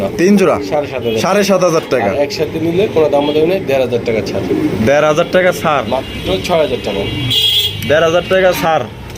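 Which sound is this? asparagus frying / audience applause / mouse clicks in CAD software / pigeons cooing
pigeons cooing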